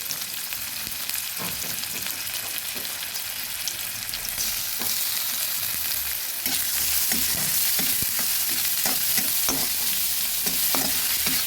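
Onion and ginger paste fries in a hot pan for a prawn and potato curry, giving a continuous loud sizzle broken by scraping, clinking stirs of a utensil against the pan, with no talking.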